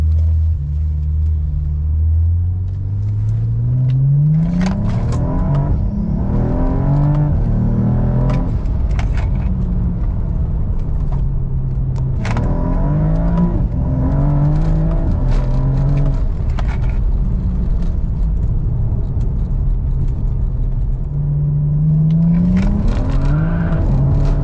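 A BMW with an N54 engine fitted with B58 ignition coils accelerates hard through several gears. The loud engine note climbs repeatedly in rising sweeps and drops at each shift, with no talk over it.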